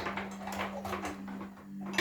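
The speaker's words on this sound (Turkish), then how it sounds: "bulaşıkları yıkıyor" Dishes being washed at a home sink, with dishes and cutlery clinking and rattling in quick irregular bursts over a steady low hum, close and moderately loud, with no talking.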